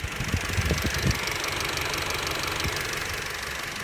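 A 2016 Volkswagen Golf R engine idling, a low steady hum with a few soft knocks early on, fairly quiet and close, with no talk.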